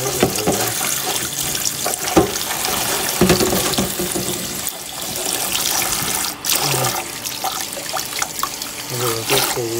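Kitchen tap running water over onion and ginger being washed, a steady close splashing and trickling rush with clatter of handling, under a person talking.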